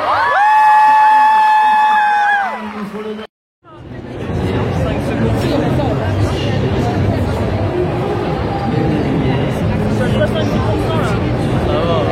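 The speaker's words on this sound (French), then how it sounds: "On peut les applaudir s'il vous plaît." At an event in Paris, after a loud tonal sting and a brief silence, a crowd erupts into sustained applause and cheering with whoops and chatter mixed in.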